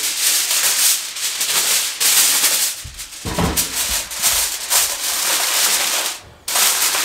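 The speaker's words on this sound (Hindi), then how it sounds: "अल्मुनियम फाइल है हमारे पास, इसकी मदद से इसको कवर करेंगे।" Aluminium foil is pulled and pressed over a bowl of mango ice cream mixture, giving close, uneven bursts of crinkling and rustling with brief pauses between.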